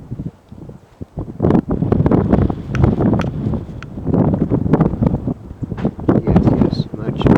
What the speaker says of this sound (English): Oh my God, I hope this wind dies.